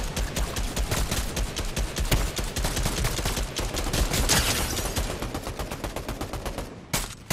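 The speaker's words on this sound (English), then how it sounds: "Five more rounds of my AR. Somebody shoot at the guy." Assault rifle fire in a battle royale video game: dense, rapid automatic bursts that run almost without a break, loud and close throughout, ending with a brief pause and one last shot.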